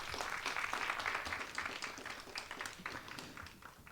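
Audience applause after a presentation at a public city-development forum in Gwacheon, a steady wash of many hands clapping, fairly faint and distant, tapering toward the end.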